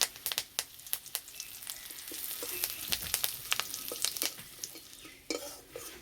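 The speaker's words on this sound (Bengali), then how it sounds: "ভাজা হয়ে গেছে, এবার বেসনের মধ্যে ঢেলে দেব।" Sesame seeds and curry leaves fry in mustard oil in a kadai, a steady close sizzle broken by many sharp crackles and pops as the leaves spit, with stirring throughout.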